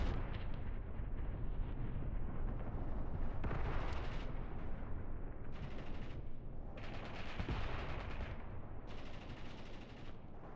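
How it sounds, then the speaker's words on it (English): Artillery salvos from the World War II game Mius Front boom and rumble in heavy overlapping bursts, some close and loud, others rolling in from the distance, with sharper cracks of gunfire mixed through the barrage. "Beautiful artillery work here."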